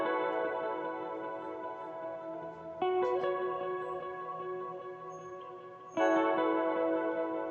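Smooth, swelling guitar chords with a fade-in, EQ, reverb, chorus and delay from a hip-hop beat remake, three sustained chords each rising then slowly decaying, clean and up front with no talking.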